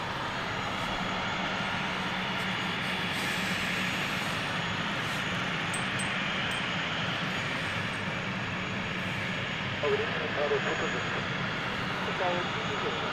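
KLM airliner at London City Airport gives a steady, broad engine roar that holds loud and even throughout, heard from a distance outdoors.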